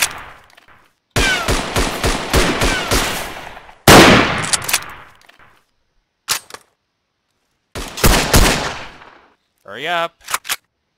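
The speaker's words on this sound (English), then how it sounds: "Not much you can do against pistol like that." Pistol shots in the World War I shooter Verdun come in sharp separate bursts with silent gaps between them, loud and close, and a brief spoken line breaks in partway through.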